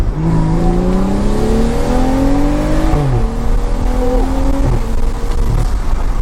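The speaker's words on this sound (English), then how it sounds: "Give you guys a little downshift and pull." A BMW F30 335i with the N55 engine and loud modified exhaust downshifts and pulls hard, the engine note climbing in rising sweeps with brief drops between shifts, loud and close from inside the car.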